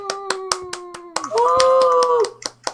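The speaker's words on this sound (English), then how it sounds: "Let's give him a round of applause." A small after-party crowd at a film premiere Q&A claps in sharp, scattered bursts, with a voice singing or cheering over the middle of the applause.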